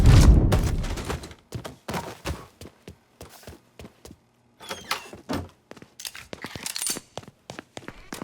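Sharp gunshots ring out in Mafia III, a loud opening blast followed by scattered single shots and short clusters with brief gaps between them.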